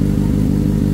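A 2024 Kawasaki ZX6R fitted with an M4 GP exhaust idles high on a cold start, a loud, close, steady engine drone with a rough throb.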